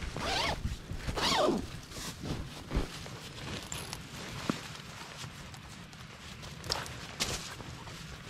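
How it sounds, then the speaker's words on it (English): A zipper pulled closed on a bag or tent at a winter woodland wild camp, several quick rasping zips in short bursts, close and clear over faint rustling. "What we're gonna do is zip it up, leave it a few minutes,"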